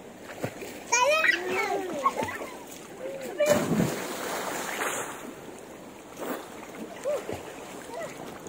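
A child jumps into deep water with a single loud splash, followed by splattering and lapping water, with excited voices of adults and children talking and shouting around it outdoors.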